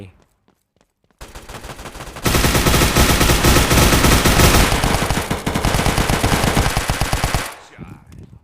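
Rapid automatic gunfire in the Hazmob FPS shooter game, a loud sustained burst of dense shots lasting several seconds after a quieter start, then cutting off abruptly.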